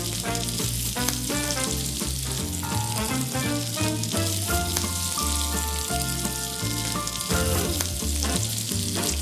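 Chicken seasoned with salt browns in a hot pan for honey-and-soy lacquered chicken, giving a loud, steady, close sizzle that runs unbroken throughout beneath background music.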